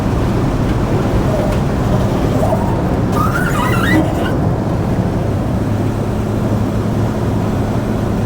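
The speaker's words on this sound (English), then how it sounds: "there's a lot of wind noise with the doors" Wind rushes steadily inside the cab of an old Studebaker truck around the poorly sealing doors, a broad constant roar over the low engine rumble, with a brief brighter swell midway.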